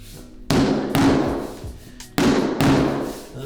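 EZ-Plank vinyl floor tiles are tapped into place with four solid thuds coming in two pairs, each hit close and sharp with a short decay.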